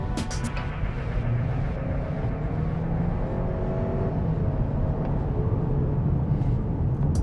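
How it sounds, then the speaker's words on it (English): A GAC Empow sedan with a 1.5-litre engine accelerates hard, heard from inside as a loud, steady engine drone and road rumble that holds throughout without speech. "let's try and see if the acceleration is any good."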